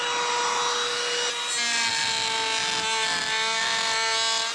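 A saw cuts through wooden deck boards at a remote cabin, a close, steady sawing drone with a sustained whine running throughout.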